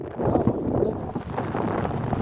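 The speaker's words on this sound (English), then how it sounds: "You can see how windy it is." Strong wind buffets the microphone out on a lake during a bluegill and crappie fishing trip, a steady rough rumble that persists for the whole moment.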